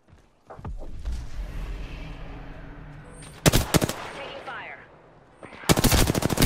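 Gunfire in the Apex Legends video game during a ranked match: a low rumbling background, then a short sharp burst of rapid shots midway and a louder sustained automatic volley at the end.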